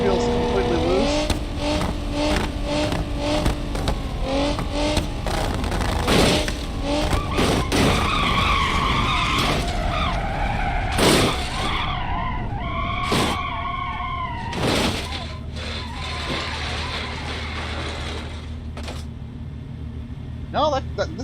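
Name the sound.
car skidding on a ramp in a video game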